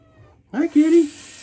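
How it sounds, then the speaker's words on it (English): A house cat meows loudly and close by in a bathroom, a single drawn-out meow of about half a second following a short lead-in chirp, with no talk over it. "Hi, kitty."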